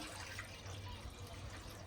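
Water pours steadily into a kadai (wok) on the stove to cook rice, making a continuous, moderately loud rushing splash with no pauses or voices over it.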